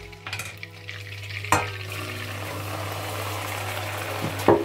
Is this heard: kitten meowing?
no